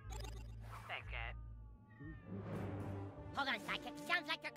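A cat in the South Park video game meows a few short times, then more drawn-out cries follow alongside a person talking.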